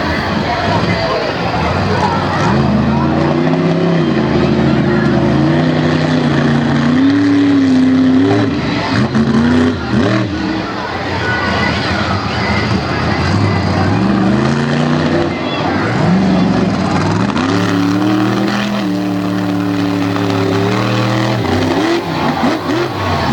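Ford monster truck from Maryland roaring through a jump in a Hagerstown arena, its engine revving up and down in loud sweeping waves while an announcer talks over it.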